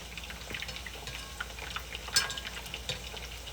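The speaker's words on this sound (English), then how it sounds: "I got these chickens just frying up right now, slowly starting to crisp." Chicken pieces fry in a pan as they slowly start to crisp, giving a steady soft sizzle with scattered pops and crackles, one sharper spatter standing out, and no one talking.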